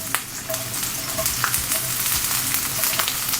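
Onions frying in oil in a pan over medium-high heat, a steady close sizzle with faint crackles and pops throughout.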